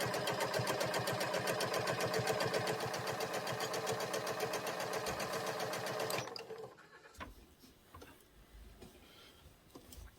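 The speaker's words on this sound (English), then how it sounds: "And then I'm gonna stitch together the underarm seam." Domestic sewing machine running steadily for about six seconds as it stitches the underarm seam of a dress, a loud, even rapid needle chatter, then stopping and leaving quiet handling noises.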